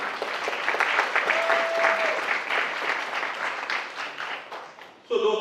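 Audience applause at a charity annual dinner, a steady round of clapping from a banquet crowd that holds for about five seconds before tailing off, with a brief tonal sound partway through and a sharp noise at the end.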